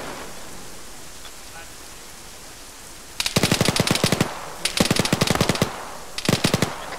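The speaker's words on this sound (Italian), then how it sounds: "Ma ci sparano dalla collina, Ravene? Chi è che spara?" Bursts of automatic gunfire in a multiplayer war video game, firing from a hill: quiet ambience at first, then three loud rapid-fire volleys in quick succession, with no speech over the shots.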